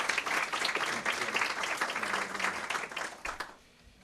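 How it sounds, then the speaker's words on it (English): A round of applause at a public school district meeting, dense steady clapping from a crowd for about three and a half seconds before it quickly dies away. "Give him a round of applause."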